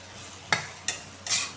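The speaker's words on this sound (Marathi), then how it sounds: "थोडंसं मिक्स करून घेऊ हे मीठ टाकलेलं." Salted bitter gourd pieces are stirred in a pan, with three short scraping, sizzling strokes at a steady pace, each louder than the last, over a quiet background.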